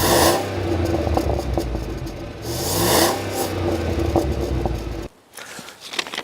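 A GMC Yukon Denali or Lincoln Navigator SUV with an 8-speed automatic tows a trailer, its engine droning and surging as it hunts between gears, loud and steady with road noise before dropping off near the end.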